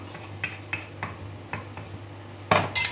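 Fish is pounded in a mortar for Lao fish larb made with clown featherback. A series of sharp, evenly spaced knocks rings out, closing with a louder cluster of clattering strikes. There is no talk.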